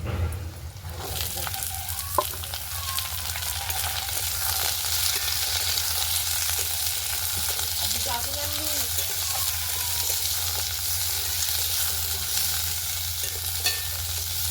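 Kohlrabi sizzles steadily with onions in a hot pan while it is stirred, producing a dense, even hiss that continues throughout at close range.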